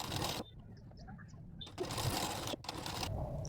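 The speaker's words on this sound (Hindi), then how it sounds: "तो देखिए मैं ऐसे बाजू को करूँगी और इसके बाद एकदम सीधी लाइन चलाऊँगी। सिलाई को एकदम सीधा चलाना है।" Sewing machine stitching a blouse sleeve seam in a straight line, running in close loud bursts that stop abruptly, with brief quiet gaps and a voice faintly in between.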